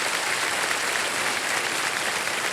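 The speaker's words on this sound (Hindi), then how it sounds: "इन दो महारथियों का एक बार फिर हम अभिनंदन करते हैं जोरदार तालियों के" Loud, sustained audience applause on the set of the Hindi quiz show KBC Season 17, a dense steady roar of clapping with no voices over it.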